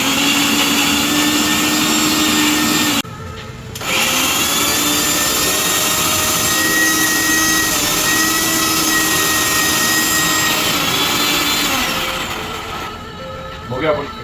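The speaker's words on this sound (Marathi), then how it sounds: "आता आपण मिक्सर मारूया." Mixer grinder grinding ginger and garlic into paste: a loud, high whirring motor roar that stops briefly, restarts and runs steadily for about eight seconds before winding down, with no talking over it.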